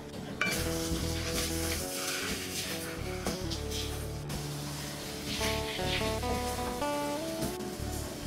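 Fried potatoes and water go into sizzling oil and spices for a Bengali chicken curry, a loud continuous sizzle and hiss with stirring and clinks of a spoon against the pan, close up, no talking.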